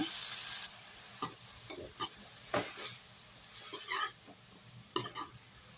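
Red amaranth greens being stirred in a pan for palya: sparse, soft scrapes and clatters of the spoon after a brief louder hiss at the start, fairly quiet and close.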